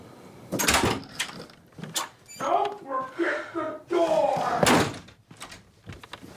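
A door slamming inside a house, several loud, sharp bangs spread out in time while people talk over and between them.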